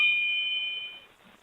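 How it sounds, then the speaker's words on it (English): A single bell chime rings out clearly and fades over about a second, close and alone without talk. "and then the bell."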